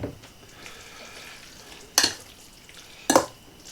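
Spaghetti squash being mixed with garlic salt and imitation Parmesan, two sharp scraping strokes of a utensil against a pot standing out over a faint background.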